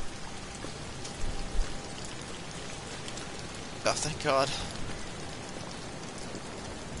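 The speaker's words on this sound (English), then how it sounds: "The rain is very intense." Intense rain falls in the video game Amnesia: The Bunker as a continuous, dense patter, with a brief spoken exclamation partway through.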